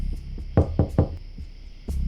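Knocking on a house door in the early morning: three sharp, evenly spaced raps close by, followed after a pause by a single heavier thud, with no talking.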